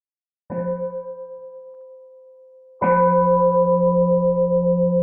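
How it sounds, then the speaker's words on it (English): A meditation bell is struck twice during a Buddhist dharma talk. Each strike gives a clear, resonant tone that rings on and fades slowly, the second strike louder and still sounding at the end. "Let's take a moment to enjoy a sound of the bell"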